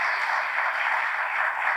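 An audience at a talk on laser eye surgery applauds, a dense, even wash of clapping hands that stays steady and fairly loud throughout, with no voices over it.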